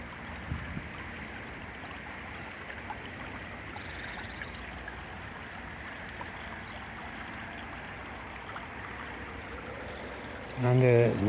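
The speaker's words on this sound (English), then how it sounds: "just listening to the water" A countryside stream runs near a road, giving a steady, even wash of flowing water throughout, with a louder low rumble rising briefly at the very end.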